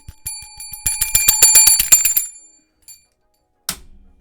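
A bright bicycle-style bell notification chime rings in a rapid cluster of about a dozen strikes, then falls silent, followed by one more short, sharp ding near the end.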